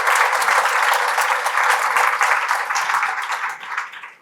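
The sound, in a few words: audience applause for a conference speaker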